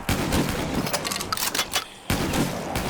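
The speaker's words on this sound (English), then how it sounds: "they're pretty good if you double fire them, like I'm doing" Two guns fired together in the custom zombies map Henge, loud rapid-fire volleys in a dense burst, a short lull, then another burst of heavy shooting.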